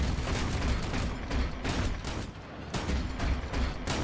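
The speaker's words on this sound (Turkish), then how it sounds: "Mermilerin sesi, o silah sesi gerçekten güzel." Gunfire in a mobile open-world MMORPG shooter game, a dense, loud barrage of rapid shots and booming impacts that rattles on continuously for about four seconds.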